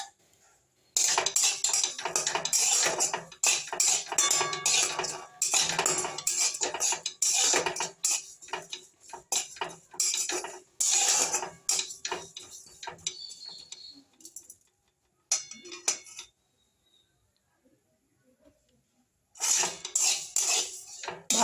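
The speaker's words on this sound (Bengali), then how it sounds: "কড়ার মধ্যে আমি এই পাঁচফোড়ন আর জিরেটাকে আমি ভেজে নেব একটু।" Panch phoron and cumin seeds frying in a kadai for Bengali shukto, heard as a run of metallic scraping and clinking stirring strokes with gentle crackle, pausing briefly before a final burst of scraping.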